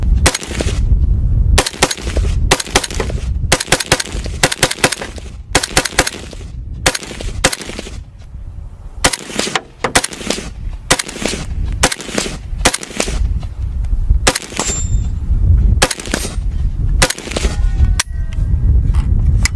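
A semi-automatic civilian AK rifle fires a long series of loud, sharp single shots at an irregular pace. The shots are close, and each one rings out with an echoing tail.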